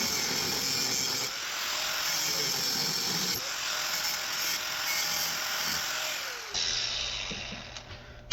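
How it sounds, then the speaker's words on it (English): A cutoff wheel grinding the peened end off an upper door hinge, giving a continuous harsh, abrasive hiss close by that holds steady for several seconds, shifts in tone partway through, and ends abruptly. "So I got my cutoff wheel here"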